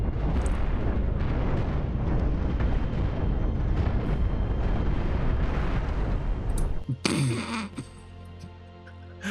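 Missile explosions in the space combat game Cosmoteer: a loud, dense barrage of booming blasts rolls on continuously for several seconds, then breaks off into sharper crackling impacts and lighter debris noise.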